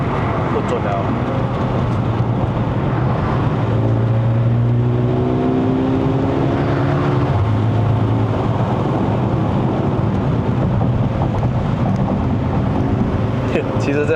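A Mercedes-AMG GLA35 SUV climbs a winding mountain road in Malaysia, its engine droning loud and steady with rising revs as the throttle is released and reapplied, wind and road roar underneath.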